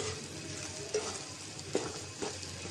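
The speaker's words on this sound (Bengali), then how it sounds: "জিরার গুঁড়ো দেওয়া হয়েছে একটু নাড়াচাড়া দিব এখন" Fish stirred with cumin powder in a frying pan, a steady sizzle of frying underneath a few soft scraping stirs of a spatula against the pan, with no talking.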